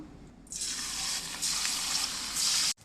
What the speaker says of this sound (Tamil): இப்போ வந்து எண்ணெய் வந்து ஹீட் பண்ணி வச்சுட்டேன். ஸோ இதை வந்து நான் வறுத்து எடுத்துட வேண்டியதுதான்.